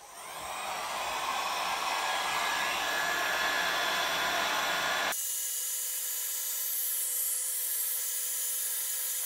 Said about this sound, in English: So what I thought, I'd just quickly show you on fast speed me drying this.